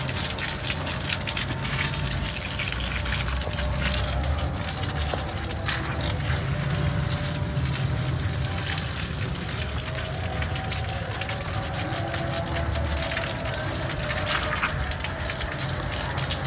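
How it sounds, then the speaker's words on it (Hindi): Water is sprayed from a hose onto brick walls before plastering, a steady, close gushing hiss that runs unbroken throughout, with no talking. "हम अभी पानी लगा रहे हैं, सुबह को एक बार फिर आगे लगाएंगे पानी।"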